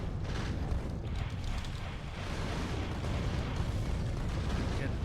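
Rockets fired at worms in the video game Factorio make a dense, continuous barrage of booming, crackling blasts and rumbling impacts, loud and unbroken throughout.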